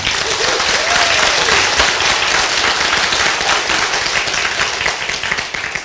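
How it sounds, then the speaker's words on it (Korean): An audience applauds top sponsors at a group business meeting, with dense, sustained clapping from a large crowd that stays loud and even throughout. "우리 상위 스폰서님들에게 기다려준 그 인내심에 감사의 박수."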